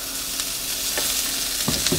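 Thin fennel slices frying in oil in a pan, a steady soft sizzle throughout with a few brief stirring scrapes near the end, close and moderately loud, with no talking.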